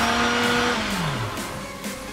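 A Silvercrest SSDMD 600 blender runs on its second or third speed, a loud steady motor whine whose pitch sags partway through as the load changes, continuing to the end.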